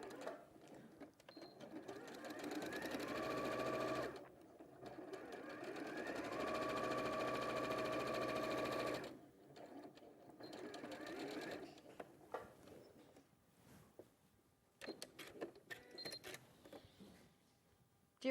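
A sewing machine stitches fabric squares together in steady bursts, running for a few seconds, pausing, then running again, with shorter stitching runs toward the end and faint talk between them.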